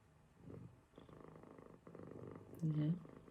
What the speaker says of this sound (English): I get to have cat cuddles all the time.